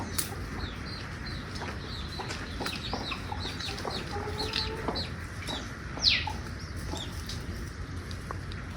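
Free-range country chickens cluck softly in a chicken shed, scattered quiet clucks and brief wing flaps over a low background hum, with one sharper call near the end.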